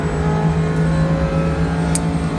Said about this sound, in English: I shift down to fourth, and I'm compressing the engine to make this long sweeping turn right here